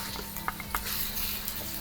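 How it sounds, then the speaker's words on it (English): Garlic sizzles in hot oil in a frying pan, a soft steady crackle with a few sharper pops and stirring scrapes, close and fairly quiet. "I love that sizzle"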